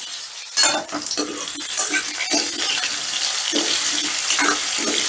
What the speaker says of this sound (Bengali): গ্যাসের রাস্তা বাড়িয়ে দিয়ে আলুগুলোকে বেশ লাল লাল করে ভেজে নিতে হবে